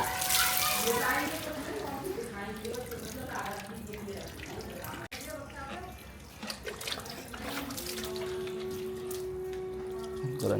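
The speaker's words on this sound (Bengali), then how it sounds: "গোরাঙ্গি নিজে নিজে স্নান করছে" Water runs and splashes steadily during a bath, a continuous rushing and spattering close by, while a voice speaks over it for much of the time.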